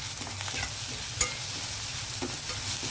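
Onions frying in a pan with turmeric and salt are stirred with a spoon, giving a steady close sizzle under continuous scraping strokes, one sharper clack near the middle, for a drumstick and jackfruit seed curry.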